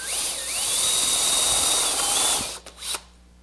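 A power driver sinks a screw into a board for a woodworking shooting board, a loud steady whir lasting over two seconds that winds down, then a couple of short clicks and a brief burst.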